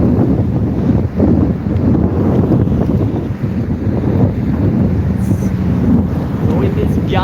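Strong gusting wind roars across the microphone while biking beside open salt water, a loud continuous buffeting that surges and dips in waves, with some faint voice-like sound under it.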